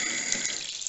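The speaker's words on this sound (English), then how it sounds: "It is a waterfall tap." Water pours from a brand-new waterfall tap into a small bathroom sink, a steady, close, even rush with no pauses.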